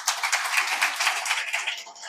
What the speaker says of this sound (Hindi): आइए इस यंग मैन के लिए जोरदार ताली